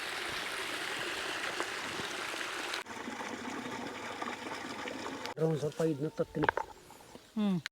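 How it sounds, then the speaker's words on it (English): Steady rushing water from a borewell pours into a farm pond in South India, a continuous broadband splash that fills most of the stretch before a voice begins talking near the end. "this water is coming here from the bore."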